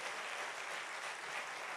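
Steady, dense applause from a congregation in a church, heard at a distance as continuous clapping without any voices.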